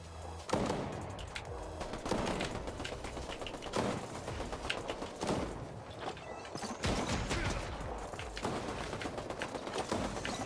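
Rapid gunfire from a Fortnite match, dense bursts of shots crackling continuously and loudly with mechanical clatter between volleys, no talking.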